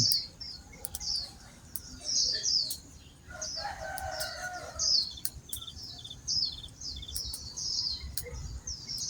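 Early-morning birds chirp in quick, repeated high bursts throughout, joined midway by a rooster's crow and some clucking, with a faint rustle of wind underneath.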